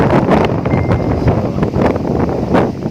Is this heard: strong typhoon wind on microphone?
yes